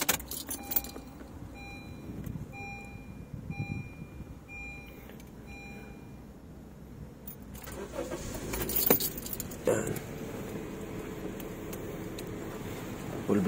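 A Honda BR-V is started after keys jangle and warning chimes repeat, its engine catching partway through and settling into a steady close idle.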